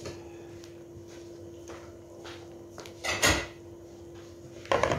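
A metal lid set onto a cooking pot of simmering sinigang na isda fish soup in a home kitchen, a clattering clank near the middle and another rattle at the end, over a steady stove hum and light kitchen noise.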